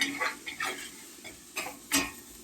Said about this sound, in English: I just toss it in, stir it around, and then wait till I get a nice aroma of the spices